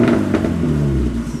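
A Mazda Miata fitted with a Borla exhaust gives a quick rev close by, a throaty rise and falling engine note lasting only a moment.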